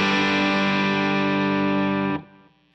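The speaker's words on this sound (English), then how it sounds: "My B preset has my dirty tone." Dirty, distorted electric guitar tone from a pedalboard preset rings out as one loud, sustained chord that holds for about two seconds and then cuts off abruptly, leaving a short decaying tail.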